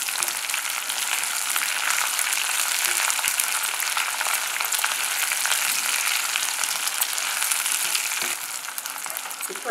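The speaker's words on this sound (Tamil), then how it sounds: "போட்டு இதை நல்லா வதக்கணும்." Ginger and slit green chillies sauté in hot oil in a pan for Pongal, a steady, dense sizzle running close and loud throughout, easing slightly near the end.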